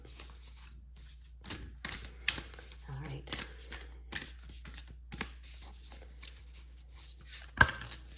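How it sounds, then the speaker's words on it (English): Tarot cards shuffled by hand in short, irregular riffling bursts, close and fairly quiet, while a person speaks briefly between the rustles. "We just want one of these cards, so we're going to shuffle until one of them comes out."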